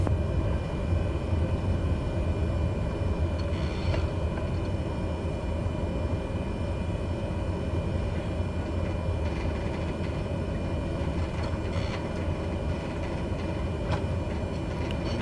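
A Cessna in a flight simulator taxis down the runway toward New Zealand airport NZPM, a steady loud engine drone with rumbling road noise throughout and no break or speech.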